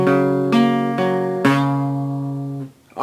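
Guitar picks a chord one string at a time for a song, several close, sustained notes overlapping and ringing out before fading.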